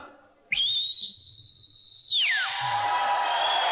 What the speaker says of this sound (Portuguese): o apito final